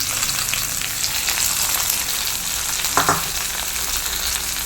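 Hot tempering is poured into a cucumber pachadi, the Kerala Onam feast side dish. A strong, continuous frying sizzle crackles throughout, with a brief stirring clatter partway through.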